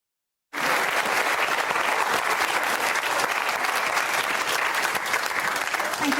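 A studio audience on a daytime talk show breaks into a steady round of applause after a brief silence, dense and even clapping that holds at a constant level without talk.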